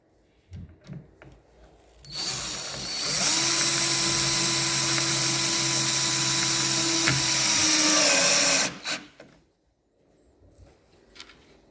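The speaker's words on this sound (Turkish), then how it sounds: "Ayaklara üçer tane vida atmanız kafidir. İki tane birine, bir tane birine atmanız yeterli olacaktır." Power drill driving screws into the legs of a wardrobe: a steady high whine holds for several seconds, then cuts off, with faint handling knocks before and after.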